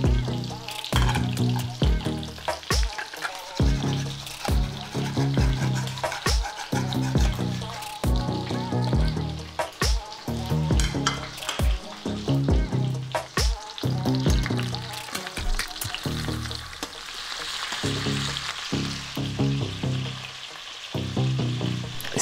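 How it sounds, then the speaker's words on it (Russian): Steady sizzling and crackling of onion and garlic frying in a hot pan over medium-high heat, continuous and fairly loud throughout, with occasional stirring clatter. "И сразу сюда лук с чесноком. Обжариваю на огне выше среднего."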